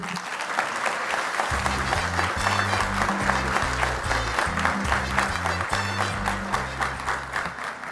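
An audience at a conference plenary applauds to welcome a speaker, sustained loud clapping from a large room while steady low music tones play underneath.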